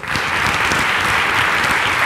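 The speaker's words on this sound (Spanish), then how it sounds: "Pues un aplauso." Audience applause during a Spanish interview event with La Ronda de Boltaña: dense, loud, steady clapping from many hands with no break.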